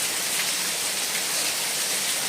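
Heavy downpour in Mithapur during a cloudburst, a dense, steady hiss of rain that stays close and even throughout, with no voices.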